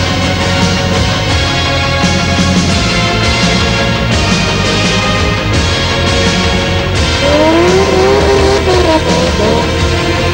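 A dragster roaring down the strip at Tarlton Raceway during the 2004 South African Drag Championships, a loud, unbroken engine blare that fills the whole stretch, with a rising whine near the end.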